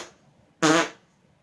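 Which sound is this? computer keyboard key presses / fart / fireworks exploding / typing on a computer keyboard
fart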